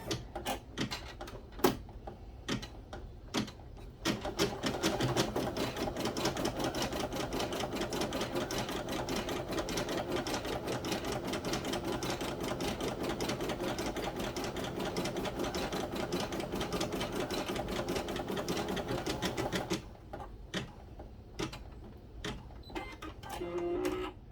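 An embroidery machine stitching out a sticky note holder runs as a fast, dense, steady run of mechanical clicks and whirring for about fifteen seconds, with sparse isolated clicks before and after.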